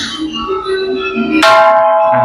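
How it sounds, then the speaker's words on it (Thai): A temple bell at Wat Mon (Wat Sarang Sok) is struck once, loud and close, ringing out with a bright metallic tone that sustains over a softer earlier hum. "เดี๋ยวเรามาตีระฆังกันก่อนครับ"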